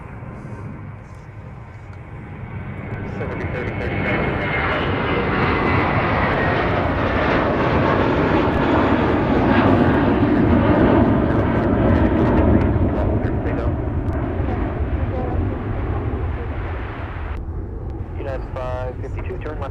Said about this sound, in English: Here comes a 320 to SFO for United.